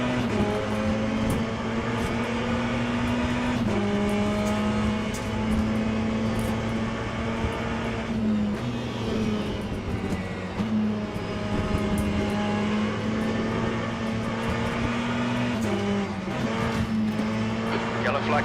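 Race cars including an LMP2 in the Le Mans Ultimate racing game, a loud sustained engine drone with shifting pitch and gear changes, other cars passing, and someone talking over it throughout.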